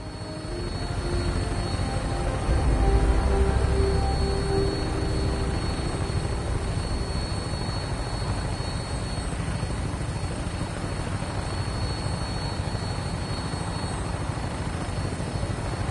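A restored aircraft in Fallout 4 drones overhead, a loud, steady engine and rotor roar that swells slightly early on, then holds constant and close with no talking.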